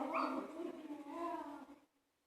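A little tiny dog whimpers and yips at close range in a few high, thin whining cries that trail off into silence.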